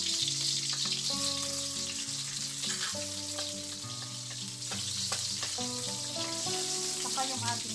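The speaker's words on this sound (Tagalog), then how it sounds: "Isasawtay natin yung ating garlic. Dagdag na rin natin yung ating" Garlic and onion sautéing in a pan, a constant soft sizzle under background music, close and steady throughout.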